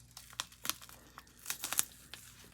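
A plastic bag of gold pay dirt being opened and handled, giving a run of close, irregular crinkles and sharp crackling rustles with brief pauses between bursts.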